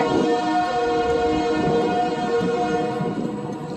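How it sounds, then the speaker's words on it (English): A train passes out of sight in the distance with a sustained horn-like tonal drone and a low rumble, moderately loud and fading slightly at the end, with no voices. "A train."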